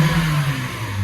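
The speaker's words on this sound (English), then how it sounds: "Couple good luck revs." A Nissan Micra engine is revved before its MOT, a short steady mid-pitched engine note held close and fairly loud for about a second.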